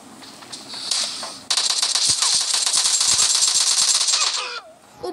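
Rapid automatic rifle fire from AKM and M416 assault rifles in the PUBG Lite video game, loud sustained bursts of sharp shots running for several seconds after a brief quieter start.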